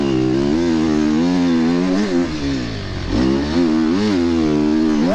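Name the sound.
enduro motorcycle riding on winter track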